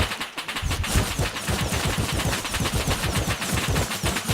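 Rapid automatic gunfire in the game Rust, a dense, sustained burst of loud shots in quick rhythmic succession over about four seconds.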